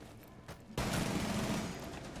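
A shotgun fires in the Rainbow Six Siege video game: a sudden loud blast cuts in after a quiet moment and rings out with a sustained burst of gunfire noise.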